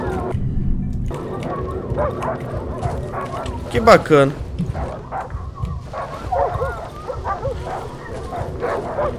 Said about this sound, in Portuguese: tem um cachorro prenha aqui